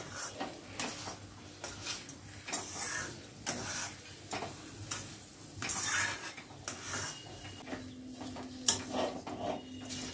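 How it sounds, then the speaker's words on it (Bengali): Semolina dough with milk powder being stirred in a kadai over a medium-high gas flame: repeated scraping, clicking strokes of the spoon against the pan in a steady rhythm, close and moderately loud, with no voices. "নেড়ে নেড়ে একেবারে সুজিটাকে ঘন করে নিতে হবে।"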